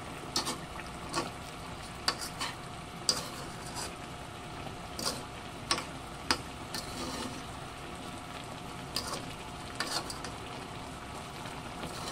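A sweet and sour sauce for tilapia, with brown sugar in it, being stirred in a pan: a low, quiet simmer under a series of sharp scrapes and taps from the spoon against the pan.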